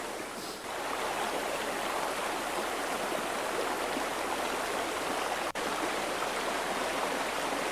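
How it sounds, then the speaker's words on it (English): A jungle stream in Costa Rica rushes steadily with a continuous broadband wash of flowing water, close and even, with one brief sharp click near the end. "More streams."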